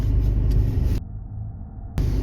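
A safari jeep reverses on the Moyar road near Masinagudi, giving a loud, steady low engine rumble that drops away for about a second before returning.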